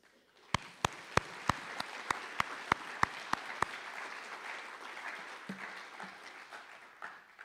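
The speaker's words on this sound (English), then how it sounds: "give these seniors a round of applause" A string of sharp, evenly spaced claps opens a spring awards ceremony tribute to graduating seniors, then quieter scattered applause from the audience continues and trails off.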